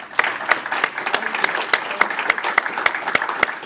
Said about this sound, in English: If you give Wayne a hand too, please.